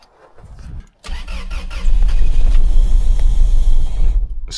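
A 2000 Toyota Tacoma engine runs with one ignition coil unplugged and a misfire. After a short quiet start it jumps to a loud, close, rough rumble that stays up, with an uneven, lumpy pulse and no talk.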